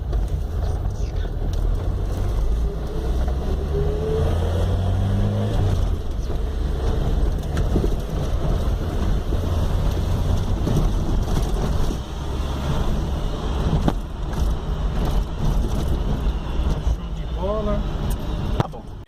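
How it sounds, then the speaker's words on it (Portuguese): A Chevrolet Chevette engine with a rebuilt carburetor runs steadily at idle, a loud continuous rumble throughout, with someone talking over it. "montamos o motorzinho do Chevrolet aí, tá vendo? O carburadorzinho reformado."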